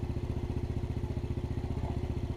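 A motorcycle engine idles steadily during carburetor RPM adjustment, a close, even, rapid low putter with a regular pulsing beat and no talk.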